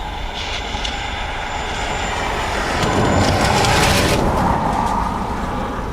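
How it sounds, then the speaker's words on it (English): A Ryanair Boeing 737-800 arriving at Dublin Airport makes a loud, steady jet roar that swells in the middle and stays broad and rushing throughout. "Ryanair coming in from Cardiff"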